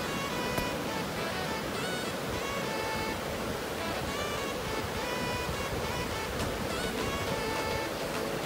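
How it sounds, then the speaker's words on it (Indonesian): Fast, heavy river current rushing over large boulders at Aek Situmandi near Tarutung, a steady broadband roar filling the whole clip with no voices. "hamparan batu-batuan yang berukuran besar yang diselingi dengan arus air sungai yang mengalir sangat deras"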